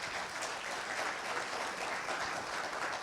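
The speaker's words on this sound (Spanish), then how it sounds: "Un gran aplauso," Steady applause from an audience at a triple-impact business conference talk, dense and continuous clapping at moderate level with no break for the full three seconds.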